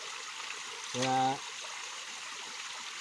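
Water flowing from a hillside water source runs as a steady, soft background wash throughout, with a brief spoken word over it near the middle.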